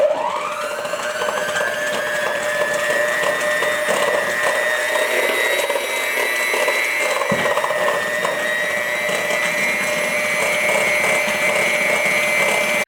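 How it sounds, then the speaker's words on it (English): An electric hand mixer beating cake batter, whining up to speed and then running at a loud, steady high pitch with a slight dip partway through. "I got my beater here, I got my hand mixer. Let's beat this."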